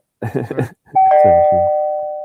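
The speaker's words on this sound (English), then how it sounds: "Why is the doorbell ringing?" A doorbell gives a loud, clear two-tone chime that rings on and fades slowly, with voices talking just before and under it.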